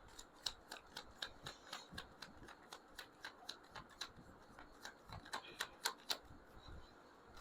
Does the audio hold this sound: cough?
no